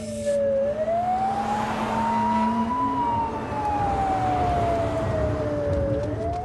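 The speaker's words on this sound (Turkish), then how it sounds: "bak geliyor ambulanslar tamam" An ambulance siren wails, sweeping slowly up and down, loud and close, over a steady rumble of traffic.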